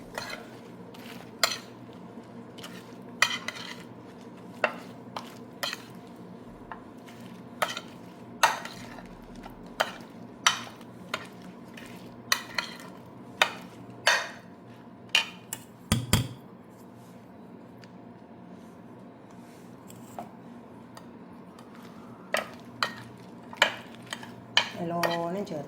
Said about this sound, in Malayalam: നല്ലോണം ചേർത്ത് ഇപ്പോൾ ഇതൊക്കെ ചേർത്തെടുത്ത്